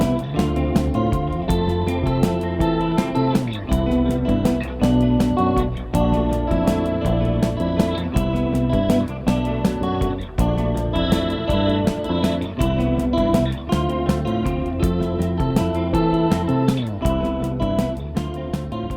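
Warbling electric guitar through an octave-down chorus pedal plays a busy, steady riff with a thick, doubled low end, continuous and fairly loud throughout.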